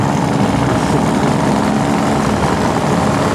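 A Honda NSR two-stroke motorcycle engine holds a loud, continuous buzzing drone close by, steady without distinct rev peaks, with broadband roar filling the whole stretch.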